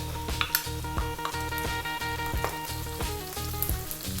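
Aromatics sizzle in hot oil ahead of a soy sauce chicken and vegetable fried rice, a bright steady crackle with metal utensil scrapes and light clinks of stirring at close range.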